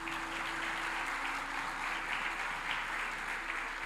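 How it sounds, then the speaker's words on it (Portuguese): A church congregation claps together in steady, dense applause that holds evenly throughout, loud and close with no gaps. "Uma salva de palmas para vocês aí."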